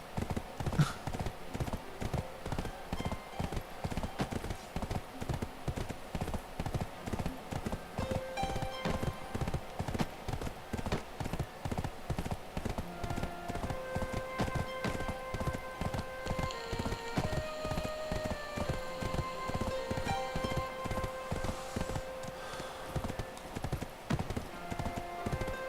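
Horse hooves galloping in the video game Black Desert Online, a fast, dense, unbroken drumming rhythm that carries steadily throughout, with faint game music tones rising in the background.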